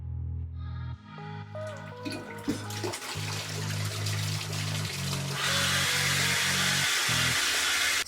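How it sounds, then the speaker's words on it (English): Warm shower water runs at home, beginning with a humming tone from the pipes and then opening into a loud, steady, close hiss of spray that continues to the end. "So once I'm in the shower, I make sure the water is nice and warm."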